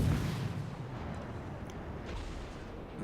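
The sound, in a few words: warship main battery firing in video game World of Warships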